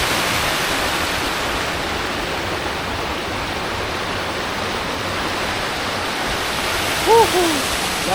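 Steady broadband rush of a waterfall at a farm in San Jorge, Samar, Philippines, loud and continuous throughout, with a brief faint whistle-like sound near the end.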